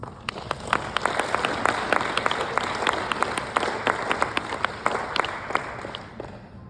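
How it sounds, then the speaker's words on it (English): A conference audience gives a round of applause at a Seasons of Change gathering. The crowd claps steadily for several seconds, with a few louder individual claps standing out near the front. "you guys give her a round of applause"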